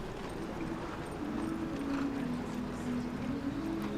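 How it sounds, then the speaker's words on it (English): A dressage horse trots across a competition arena at a European eventing championship, its hoofbeats a steady, muffled clip-clop under constant ambient noise from the venue. "Perfect 5 strides back and straight back into trot."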